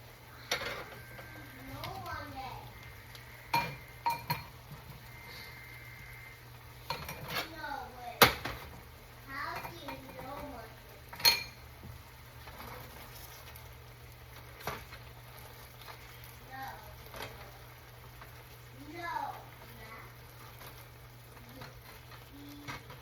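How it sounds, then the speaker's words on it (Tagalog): Bihon noodles with adobo pork and shrimp stirred in a pan, with scattered clinks and scrapes of a utensil against the pan over a low steady hum, while someone talks intermittently. "Haluin natin yan."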